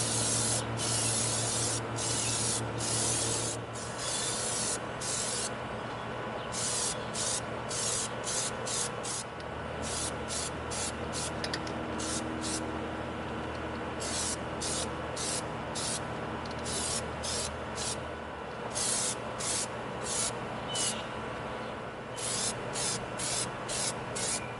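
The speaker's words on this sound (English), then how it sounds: "We're gonna coat our Splash-o-matic with our Plastidip." Plastidip is sprayed from an aerosol can onto an EVA foam prop in repeated bursts of hissing, with short pauses between passes, close and steady throughout.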